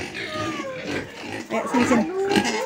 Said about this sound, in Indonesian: Babinya udah lapar.